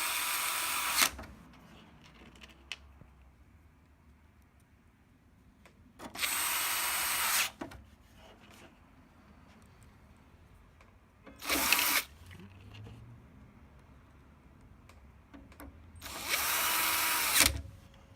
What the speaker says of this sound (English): you can go ahead and screw back those 6 Torx T10 screws